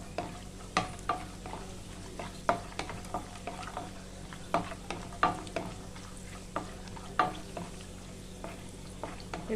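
Raisins frying lightly in a pan over low heat, a soft background sizzle broken by frequent sharp clicks and taps of stirring against the pan, close and fairly quiet, with no voices.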